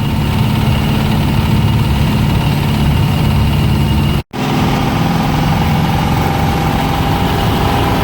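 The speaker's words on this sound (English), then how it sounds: "You can hear the engines screaming." A 1935 Plymouth Coupe engine running hard at about 55 mph from inside the car, a loud, constant droning roar with a steady mechanical hum and no letup apart from a momentary cut.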